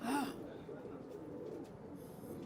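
A pigeon gives a short, soft coo right at the start, followed by a quiet, low background murmur.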